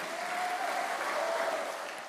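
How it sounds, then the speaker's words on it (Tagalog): An audience at a Tagalog church preaching applauds in a steady, full wash of clapping from many hands, with a faint voice just audible underneath. "Yung palakpakin nyo,"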